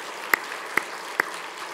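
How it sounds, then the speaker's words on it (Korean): Clapping at a Korean New Year's Eve church service comes through as three distinct, evenly spaced claps over a quiet background, with no talking. "1년 동안 더 잘하라고 다시 한번 크게 박수 치겠습니다."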